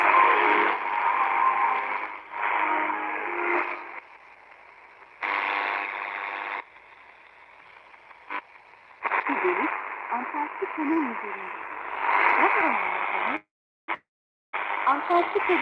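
Crackly, band-limited shortwave radio hiss with a distant Spanish-sounding voice drifting in and out, fading and cutting off intermittently as the signal wavers.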